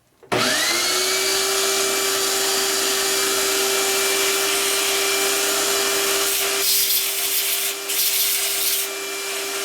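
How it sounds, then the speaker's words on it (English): A noisy vacuum cleaner motor whines steadily and loudly at close range for nearly the whole stretch, holding a constant pitch with a slight change in tone near the end and no voices. "Use a noisy vacuum cleaner."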